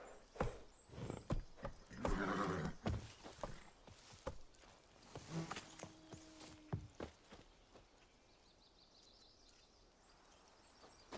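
Roach the horse in The Witcher 3 clops along with a quick run of hoofbeats that slows and fades, a brief neigh-like tone sounding midway, then quiet ambience with faint birds.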